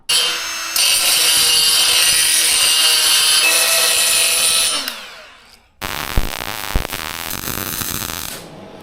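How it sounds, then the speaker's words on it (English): An angle grinder grinds down cracks on a blown engine block with a loud, sustained high whine and rasp. It cuts out near the five-second mark, pauses, then restarts with rough, uneven grinding. "I want to just angle grind these down"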